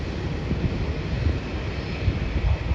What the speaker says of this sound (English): So that flight's coming in from Bangkok.